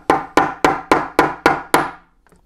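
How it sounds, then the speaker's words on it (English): A hammer taps a seal onto a fuel injector resting on a bit of wood, giving seven sharp, evenly spaced, ringing strikes close by, each decaying quickly before the next, then silence. "You can hear the hammer tap as I hit the metal and it bottoms out."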